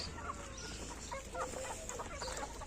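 Hens in a coop cluck softly in short, scattered bursts over a faint low background hum.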